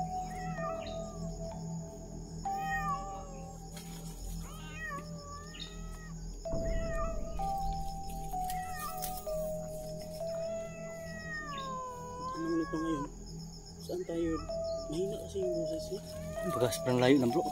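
A cat meows over and over somewhere in thick outdoor brush, a string of wavering cries at moderate distance over a steady insect chorus, with rustling footsteps and occasional voices.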